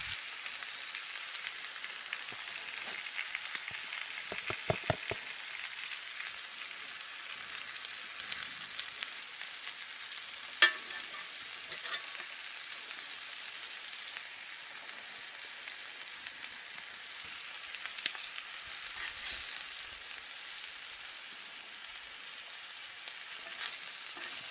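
Potato hash with cooked ham, onions, summer savory, salt and pepper fries in a cast iron pan outdoors, giving a steady close hiss and crackle with a few sharper pops.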